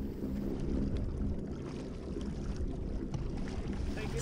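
A Watersnake T24S electric motor side-mounted on a Native Manta Ray 12 Propel kayak pushes it through the water into a headwind, a low steady droning hum with water slosh and light wind noise, continuous and close.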